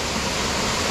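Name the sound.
waterfall on Table Rock Trail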